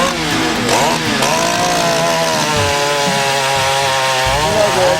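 Chainsaw cutting into wood at a carving championship, the engine loud and close, revving and bogging steadily as it bites through the timber.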